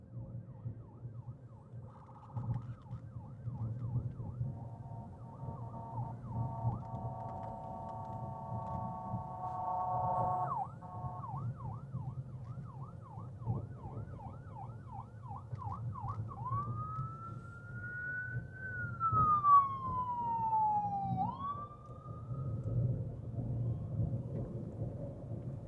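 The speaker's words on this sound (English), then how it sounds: "Uh-oh, ambulance." An ambulance siren passes at night on a road near a hospital. It cycles through wailing and yelping patterns and then a long rising and falling sweep, moderately distant, over low traffic rumble.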